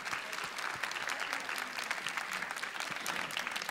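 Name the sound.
applause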